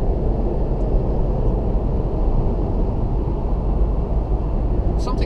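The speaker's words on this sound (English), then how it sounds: "So I will run the GoPro while the car is getting washed." A car passes through an automatic car wash, heard from inside the vehicle as a loud, continuous roar of spraying water and machinery. The steady noise fills the whole stretch, with a brief higher clatter near the end.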